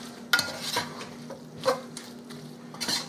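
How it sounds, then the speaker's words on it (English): A spoon stirs macaroni and cheese in a pot, giving a few distinct scraping, clinking strokes against the metal over a soft steady hum. "I'm going to stir this up and get that mixed in good."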